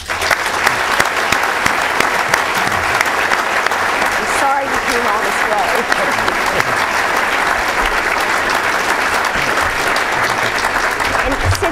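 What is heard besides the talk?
audience round of applause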